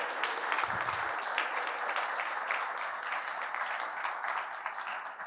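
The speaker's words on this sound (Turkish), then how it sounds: "bütün kazananlarımızı aynı karede alkışlıyoruz" An audience at an EU human rights short film award ceremony applauds the winners on stage with steady, full clapping throughout. A brief low thump sounds early on.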